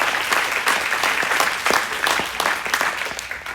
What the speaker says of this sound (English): I just want to give a big round of applause to Gary and Sherry